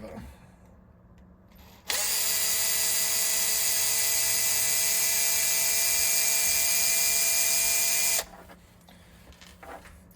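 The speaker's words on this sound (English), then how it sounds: "I'll make it a bit quicker and actually undo them with the driver." A power screwdriver undoes the screws on a Beluga HB R1001 RC truck, a fake TRX4, with one steady, loud high-pitched whir lasting about six seconds before it stops. Quiet handling noises are heard before and after.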